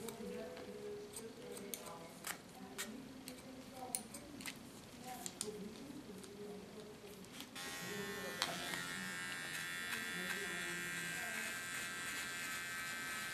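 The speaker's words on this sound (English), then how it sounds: "With my small Tondeo clipper I clean the contour line." A small Tondeo hair clipper trims a contour line, a faint buzz amid quiet clicks and handling that swells into a steady, closer whir partway through.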